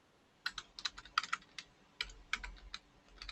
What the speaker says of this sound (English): I like the way that keyboard sounds.